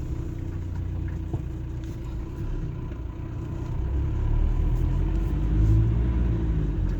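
Cars in a small town centre pull out onto the street, a steady low engine rumble that swells as a vehicle accelerates nearby, with no voices.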